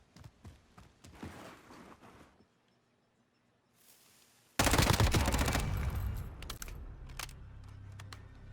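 Burst of M13 rifle fire in a competitive 1v1 video game gunfight, a sudden loud volley of rapid shots after quieter clicking and movement, then continuing sharp cracks trailing off.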